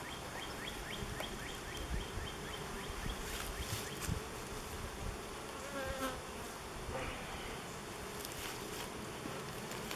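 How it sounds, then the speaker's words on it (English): Dense, steady swarm buzz of many bees around an opened, smoked beehive during a hive split, close and continuous with small swells in intensity and faint background chirps. "Alright, a lot of bees here."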